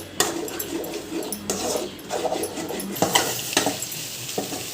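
Egg sizzles in a hot pan for chicken rice while a utensil stirs and scrapes the metal in irregular bursts, frying crackle running beneath the clatter.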